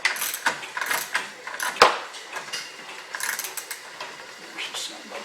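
Repeated ratcheting clicks and grinding of a cranking mechanism being worked to free a stuck HP Everclean can, close and fairly loud, with irregular bursts and one sharper clack partway through.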